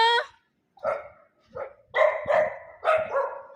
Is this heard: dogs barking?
yes